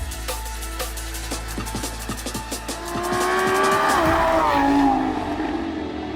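A Lamborghini Huracán Evo V10 supercar drives by with a rapid series of sharp, loud engine pops and crackles, then swells into a revving, tire-squealing surge that fades slightly at the end, with no talking.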